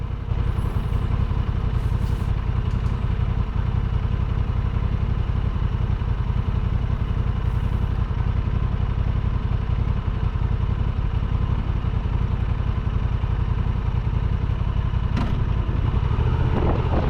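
A 2023 Honda Transalp 750 motorcycle engine runs steadily and loudly up close, a constant mid-pitched drone with mechanical clatter throughout and no talking.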